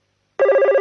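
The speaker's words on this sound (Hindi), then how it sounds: "किसका फोन होगा?" A cartoon telephone in a Shinchan episode starts ringing abruptly after a moment of silence, sounding one bright, rapidly trilling electronic ring, close and clear.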